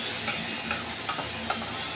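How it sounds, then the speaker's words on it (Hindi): Stuffed bitter gourd masala fries over high heat in a pan, giving a steady, close sizzle broken by a few sharp clicks from stirring, with no talking. "तेज़ आँच पे इसे भूनेंगे"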